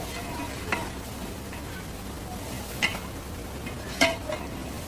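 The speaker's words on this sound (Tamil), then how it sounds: "நல்லா ஃப்ரை ஆகுது." Chicken biryani sizzles steadily as it fries in a pot, with a few sharp scrapes and clinks of a spoon stirring it, close and constant with no talk.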